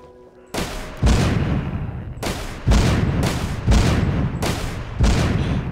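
Gunfire in the mobile game The Walking Zombie 2: several loud shots at regular intervals, each a sharp broadband blast followed by a decaying echo, with no talking over them.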